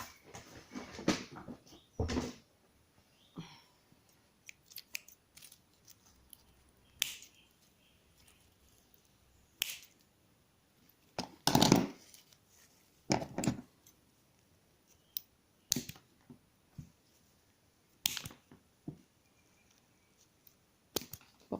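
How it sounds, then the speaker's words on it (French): Small scissors snip apart paper flowers in a series of sharp, quiet, close cuts at an irregular pace against near silence. "je prends un petit ciseau et je vais venir séparer mes fleurs"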